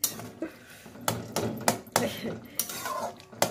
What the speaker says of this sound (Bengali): এবার আমি একটু খুন্তি করে ঘাঁটবো, কারণ এটাকে তো বলে মূলো কুমড়োর ঘ্যাঁট